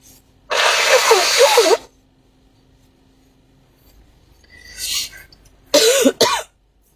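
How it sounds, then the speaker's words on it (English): A long, forceful nose blow, then a quieter snuffle and two short sharp blows, with near-silence between them. "I need to blow my nose."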